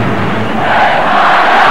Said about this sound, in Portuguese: E a torcida espanhola dá força para o time, canta em coro, grita o nome da Espanha